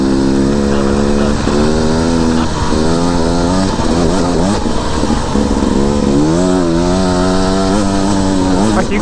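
A 2021 Beta 300RR dirt bike engine revs loud and close, rising and falling in pitch as it pulls hard through several bursts of throttle during a group trail ride.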